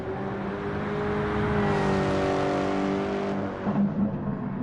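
In Gran Turismo, a Dodge Viper's engine holds a loud, even rev, its pitch climbing slowly before it drops off near the end, with no voices.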